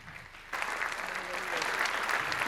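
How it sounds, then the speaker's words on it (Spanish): Audience applause at a diocesan synod presentation bursts in suddenly after a quiet moment and continues as a dense, steady roar of clapping to the end. "Un fuerte aplauso para él."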